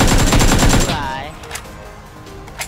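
Loud, rapid machine gun fire in PUBG rattles close up for about a second, then cuts off, leaving quieter scattered game noises.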